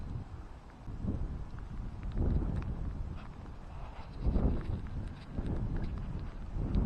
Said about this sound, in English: We finally got a bit of a windy day.